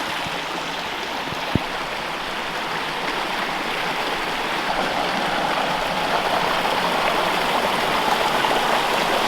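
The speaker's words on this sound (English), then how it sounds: "I love the sound of the creek right now" A steady, full rush of a creek swollen after a few hours of rain, flowing continuously, close and loud, with no voices and one brief knock early on.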